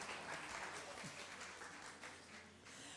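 A small audience at a French author talk applauds with a soft, dense, distant wash of clapping that holds steady for the whole three seconds.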